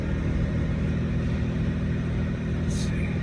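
A 1991 Mitsubishi 3000GT VR4 with a cold engine idles steadily while warming up, a low, even rumble that stays close and constant with a light touch on the gas.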